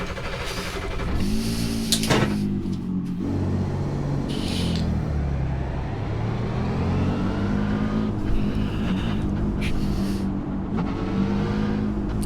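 A Nissan race car engine in the iRacing simulator revs hard and continuously, its pitch sweeping up and down through gear changes, with sharp shift clicks now and then. The sound is loud and steady throughout, with no talk.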